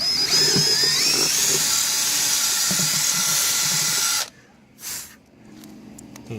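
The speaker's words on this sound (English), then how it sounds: "I'm going to change that over to an 11/64 bit. Because it's in aluminum." A power drill with an 11/64 bit bores through aluminum on a pool diving board mount, giving a loud steady whine for about four seconds before stopping abruptly, followed by a brief softer burst.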